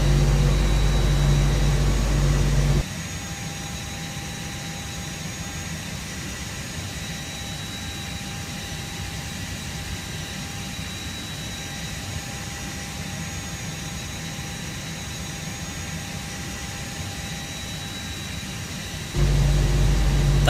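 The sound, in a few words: Airbus A320 jet engines running, from Prepar3D flight simulator video game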